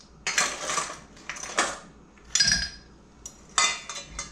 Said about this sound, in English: So let me put some ice cubes into it.